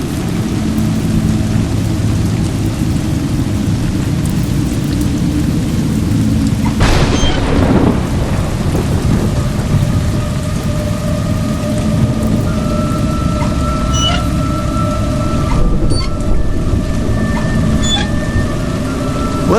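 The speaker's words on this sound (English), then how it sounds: "It's raining." Rain falls steadily in the video game A Juggler's Tale, and a loud thunderclap cracks partway through and rolls off into a long rumble under the continuing downpour.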